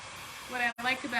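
A heat gun blows hot air over a furniture makeover project, as a steady hiss that swells louder, cuts out for an instant, then resumes, close by with no talking.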